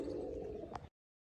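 A pigeon on a rooftop gives one soft, low coo lasting under a second, quiet and close, followed by silence.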